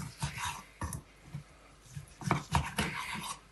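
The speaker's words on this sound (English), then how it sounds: "so we'll just carve around the edge of the bone" A knife carves a medium-rare cote du boeuf steak around the edge of the bone, giving short, close cutting and scraping strokes in irregular bursts, with no talk.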